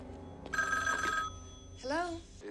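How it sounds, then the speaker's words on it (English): Telephone ringing in the 1980 film The Shining, a bright electronic ring heard twice in short bursts over a low background hum. "He's going to phone Wendy up in a few minutes."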